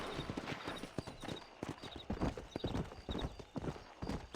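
Horse hooves clip-clopping at a steady trotting rhythm while riding in Red Dead Redemption, quiet and close, with a faint whinny and a brief voice.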